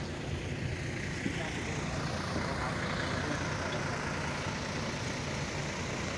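Bus parking lot at Parangtritis beach in Yogyakarta, with a steady low rumble of idling bus and vehicle engines and a continuous outdoor wash, moderately distant.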